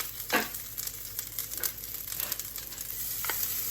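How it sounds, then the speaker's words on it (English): Cauliflower being stirred with dry spices in a pan, a soft close scraping and sizzling rustle with a few sharper crinkling scrapes, steady and moderately quiet throughout. "We do a nice stir around."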